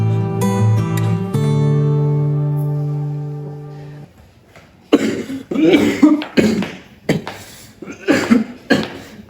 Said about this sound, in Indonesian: batuknya dari kemarin malam gak berhenti